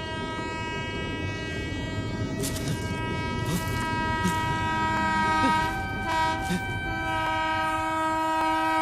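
A train passes with steady rumbling wheels and a sustained horn tone, moderately loud and continuous throughout.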